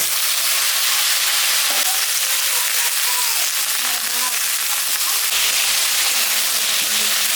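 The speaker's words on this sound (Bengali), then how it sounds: "তরকারিটা ভাজা ভাজা হয়ে গেছে" Vegetables (ridge gourd, pointed gourd and potato with onion) fry in a pan for a fish curry, giving a steady, even sizzle throughout with a few faint clinks over it.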